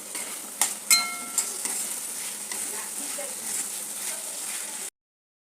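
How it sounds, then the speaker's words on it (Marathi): Peas, green beans and cauliflower sautéing in a pan, a steady close sizzle with a few sharp clinks of a spoon against the pan near the start, then ending abruptly in silence. "आता एक अर्धी वाटी मी वाटाणा टाकला आहे, अर्धी वाटी फरसबी, अर्धी वाटी फ्लावर. त्याला आपल्याला चांगलं परतून घ्यायचं आहे"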